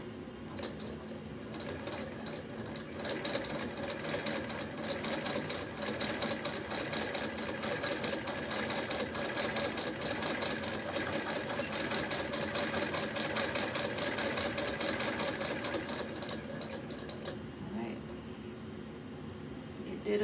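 A Singer Model 27 sewing machine runs a straight stitch, a steady rapid mechanical chatter held for about seventeen seconds before it stops, close and moderately loud with some faint background noise.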